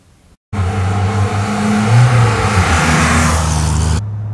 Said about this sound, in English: What do you say we take it for a drive?